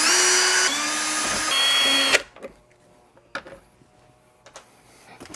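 Power drill with a T20 Torx bit backing screws out of a Jeep hardtop, a loud whirring burst of about two seconds that steps in pitch, followed by faint clicks and handling knocks.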